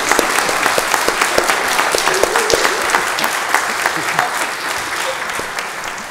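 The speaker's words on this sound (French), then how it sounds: "On peut les applaudir." Steady applause from a church congregation, dense clapping filling the whole stretch at an even, moderately loud level with a faint murmur of voices underneath.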